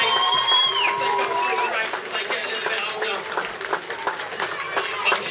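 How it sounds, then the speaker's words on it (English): Applause from a school audience at a battle of the bands, with a bright crowd murmur and tonal sounds over it, steady and fairly loud throughout. "All Year 7 students, so give them a round of applause."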